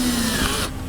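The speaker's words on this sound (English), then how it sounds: "What I do is try to line up as close to the center as possible and start drilling" A small drill bit bores into a plastic rivet on a Jeep Grand Cherokee during A/C condenser removal, a steady close whine that cuts off abruptly near the end.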